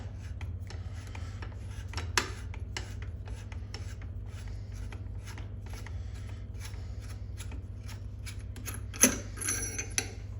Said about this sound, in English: connect it to your 1/2 inch driver, and just put your pressure on it and take off the barrel